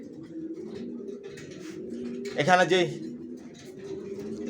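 Racer pigeon squabs being sold in a loft give a cooing burst near the middle, layered over steady murmuring bird noise while someone talks throughout.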